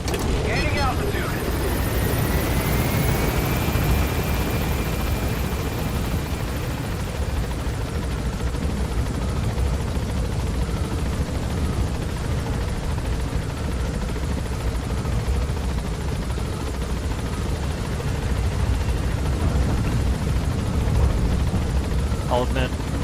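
A helicopter in Metal Gear Solid 5 climbs with a loud, sustained rotor drone and a whine rising in pitch early on, holding steady for over twenty seconds.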